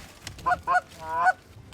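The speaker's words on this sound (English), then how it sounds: "We got geese coming." Canada geese flying in during a goose hunt honk three times in quick succession, the last call longer and drawn out, fairly close and clear over quiet background.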